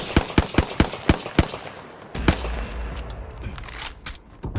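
Rapid bursts of video game gunfire crack out in quick succession, evenly spaced shots followed by a heavier blast and scattered further fire in a battle royale match.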